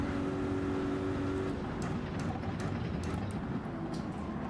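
Race car in Gran Turismo leaving the pits onto hard tyres, a low steady engine drone held under a faint ambient wash, fairly quiet and constant.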